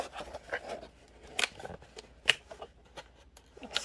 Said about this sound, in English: Excuse the crinkling.